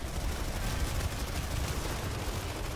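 Dense, continuous gunfire with booming blasts from the video game Planetside 2, a loud, unbroken barrage of shots and explosions filling the whole stretch with no voices.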